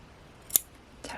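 Scissors snip through fine sewing thread after a knot is tied during a small handmade craft project, one sharp close cut followed by a softer rustle, with no talking.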